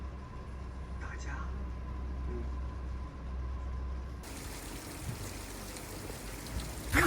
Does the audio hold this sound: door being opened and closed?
no